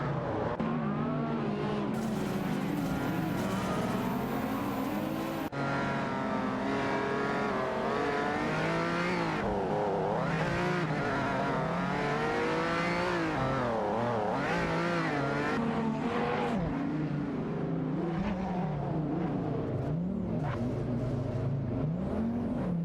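Race cars including a 1999 Dodge Viper GTS ACR and a Ferrari F300 roar continuously in an AI race, engines revving and shifting with passing whooshes and occasional tire squeal, loud and unbroken throughout with no talk.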